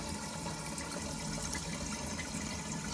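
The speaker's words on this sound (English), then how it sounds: "the toilet system's filling" A Geberit Sigma concealed toilet cistern refills in a downstairs toilet, a steady close hiss and rush of water running without a break, with no voices.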